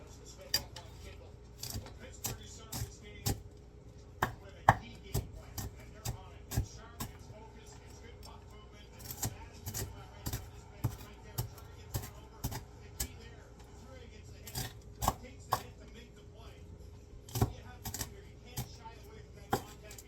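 A cleaver-type knife chopping on a board while a spinach-wrap BLT is prepared, with sharp irregular thuds repeating throughout, fairly quiet and close, alongside some talking.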